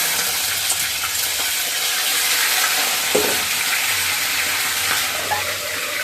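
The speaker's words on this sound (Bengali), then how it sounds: "মেথি ফোড়ন দিয়ে মাথাটা ছেড়ে দেবো" A fish head dropped into hot oil tempered with fenugreek seeds fries with a steady, loud sizzle and crackle, with brief bursts of spatter, close up and continuous without talk.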